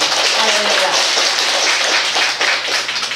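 A church congregation applauding together, dense sustained clapping, loud and close, with a few voices mixed in under the applause.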